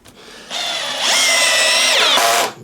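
POPOMAN TECCPO 1/2-inch brushless cordless drill driving a screw into wood on clutch setting 18, a loud close motor whine that rises in pitch, holds steady, then dips as the load changes and stops abruptly.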